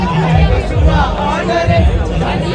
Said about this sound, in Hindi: जैसे टाइम बढ़ रहा है यहाँ पे भीड़ बहुत ज़्यादा हो रही है